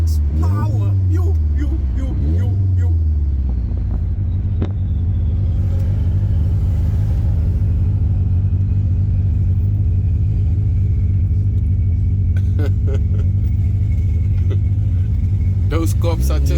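A car with a swapped-in VR6 engine revs and accelerates hard, its loud, steady engine roar and rumble holding close throughout with a few rising sweeps at the start.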